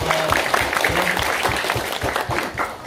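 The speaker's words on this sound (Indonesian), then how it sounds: "Tepuk tangan Bapak Ibu sekalian." Audience applause at a motivational seminar: a steady patter of clapping from a seated crowd, fairly dense and even, with faint voices mixed in.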